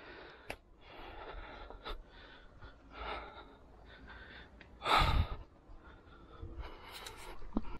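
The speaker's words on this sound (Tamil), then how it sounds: "ஒரு 100 படி ஏறினோடனே ரொம்ப மூச்சு வாங்குது" Heavy, labored breathing from a hiker resting after climbing about a hundred steps on Polur Perumal hill, repeated breaths close to the microphone with one sharp, loud gasp midway.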